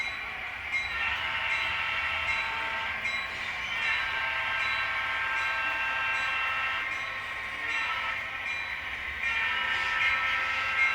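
An HO scale model train runs on a layout with a steady mechanical hum, and a sustained horn blast sounds through most of the clip, its harmonic tone swelling and fading in several pulses.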